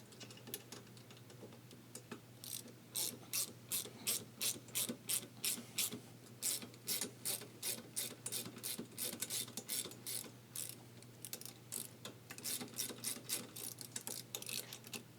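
A ratchet cranks a bolt during an RV install, giving rapid bursts of clicking pawl strokes in a steady rhythm, close and clear with no talking.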